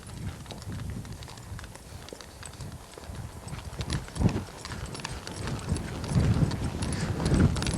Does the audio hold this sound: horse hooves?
yes